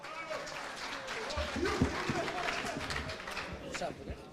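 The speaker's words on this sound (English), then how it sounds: "Please, let's give him a warm round of applause." An audience at a closing ceremony gives a warm round of applause, a fairly soft, steady patter of clapping heard from a distance, with murmured voices and some movement mixed in.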